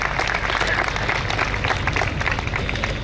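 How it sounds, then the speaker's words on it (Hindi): An audience at an alumni talk show applauds in a dense, steady patter of many hands that holds at an even level, with some voices mixed in. "एक बार जोरदार तालियां हो जाए DFC के प्राइड के लिए।"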